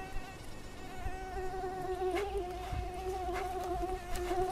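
Mosquitoes whining in a forest, a close, thin high-pitched buzz that wavers and swells as insects fly near, with faint rustling underneath and no voices.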